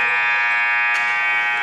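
A long, loud, steady electronic buzzer sounds without a break at halftime of a high school girls varsity basketball game, with a slight change in tone near the end.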